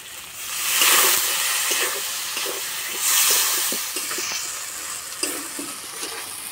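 Water hits spiced potatoes frying in a pan, and a loud, steady sizzle and hiss follows. It swells and eases with faint stirring clatter and no talk.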